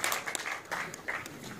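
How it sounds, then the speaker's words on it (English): Scattered clapping from an audience at a film trailer launch event, faint and thin, coming in a few uneven bursts over roughly two seconds. "I think they deserve a huge round of applause"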